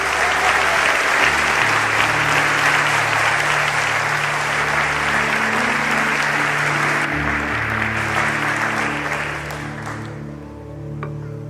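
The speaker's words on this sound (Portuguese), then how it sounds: "Dê um aplauso ao Senhor." A church congregation applauds loudly and steadily for about ten seconds, the clapping dense and close over a held keyboard chord that lingers as the applause fades away.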